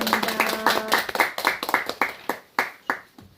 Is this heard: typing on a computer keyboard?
no